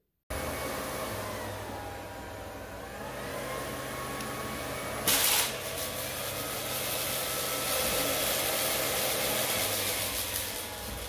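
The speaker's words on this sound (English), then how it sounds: "Did you hear the LG ramp up its vacuum motor pretty high?" A steady LG CordZero R9 robot vacuum motor whirs continuously, with a sudden louder burst partway through as it ramps up, settling into a higher, stronger drone.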